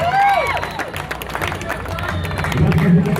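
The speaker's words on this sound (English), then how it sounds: "So give yourselves a round of applause" A crowd at a NASCAR event at Texas Motor Speedway applauds with scattered cheers and a whistle. The clapping is loud and continuous for a few seconds.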